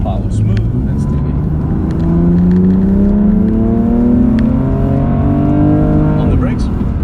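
An F97 BMW X3 M Competition on Kyalami Circuit in South Africa, its engine loud and close as it climbs through rising revs with a gearshift dip near the end, while a voice talks over it.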